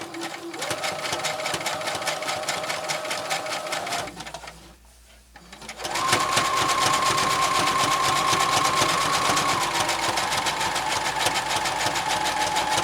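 A sewing machine zigzag-stitches two flat pieces of denim cut from old jeans, running with a loud, steady rapid mechanical whir, pausing briefly near the middle, then resuming at a higher, even pace.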